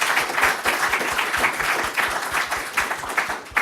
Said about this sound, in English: I just want a really huge round of applause for our panelists